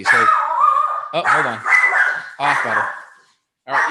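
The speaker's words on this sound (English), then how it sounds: "Sorry, that's my dog." A pet dog barks and yips intermittently in a home during a live fitness talk, the sharp calls mixed with and partly under a person speaking nearby.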